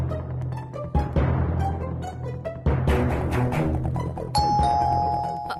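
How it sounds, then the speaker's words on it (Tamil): An inspector ringing a calling bell at the door, several bright chimes sounding over a low background music bed, the last tone ringing out clearly near the end. "அந்த இன்ஸ்பெக்டர் அங்க நின்னு காலிங் பெல் அடிக்கிறான்."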